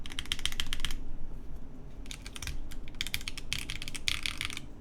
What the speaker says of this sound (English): Put these keycaps on.